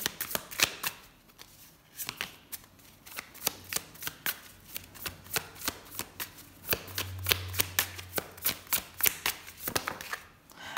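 A deck of tarot cards is shuffled and riffled repeatedly, a rapid run of crisp flicks and slaps close by, with brief pauses as cards are drawn; no talking.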